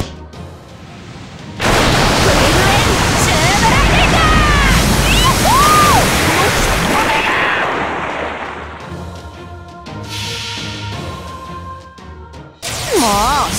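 Big ocean waves crash in a Fate/Grand Order battle scene, a loud roaring surge that swells for several seconds and then fades, overlaid with dramatic game effects and music.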